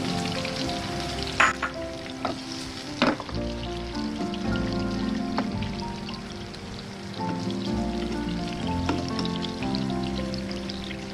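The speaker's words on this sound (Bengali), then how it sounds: "খুব কেয়ারফুললি আস্তে আস্তে এটা ভেজে তুলতে হবে ওপরে নিচে যেন কাঁচা না থাকে আমি আর একটু তেল দিয়ে দিচ্ছি" Minced-meat chapli kababs, Old Dhaka style, fry in oil in a pan with a steady, dense sizzle, broken by occasional sharp clinks and scrapes of a utensil and a brief pour of extra oil.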